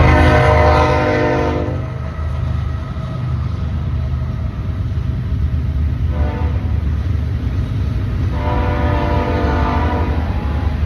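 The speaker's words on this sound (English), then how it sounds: "Train going by." A train rolls past close by with a steady rumble and clatter of wheels on rails, while its horn sounds in two or three long, loud blasts.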